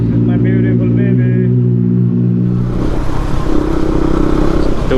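A motorcycle engine is cranked and started from cold, a steady low drone giving way to a rough, clattering idle, loud and close, with someone talking over it.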